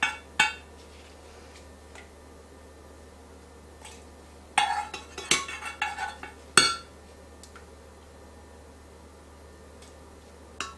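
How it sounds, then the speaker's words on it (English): A spoon scrapes and clinks against a casserole dish while spreading tomato sauce over its bottom for manicotti, with scattered light taps and a short busy run of clatters over a low background hum. "take a couple of spoons of it and spread it over the bottom of the pan so that our manicotti doesn't stick"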